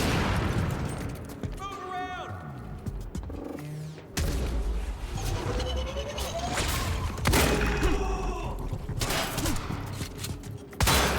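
Shotgun blasts and a heavy firefight fill the action game Quantum Break, with loud, dense bursts of gunfire and booms over game music. A player talks excitedly throughout.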